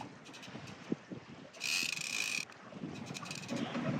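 On a sailboat off Menorca, a fishing reel's drag buzzes for about a second as a tuna pulls line out, rising over steady wind and water noise.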